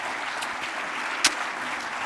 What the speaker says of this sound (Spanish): Un aplaudiment a Mercè Marc.